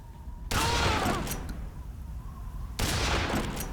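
Gunshots in Metal Gear Solid 3 ring out in two sharp, loud blasts about two seconds apart, each trailing off into a lingering echo over a quiet background.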